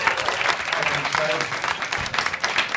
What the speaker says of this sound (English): Let's have a big round of applause for all of the comedians we had in the first half